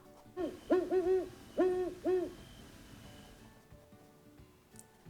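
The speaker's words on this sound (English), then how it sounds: "if you want to hear its hoot, I will play it for you now" A series of deep, resonant great horned owl hoots in a rhythmic pattern, several calls in quick succession, then quiet background.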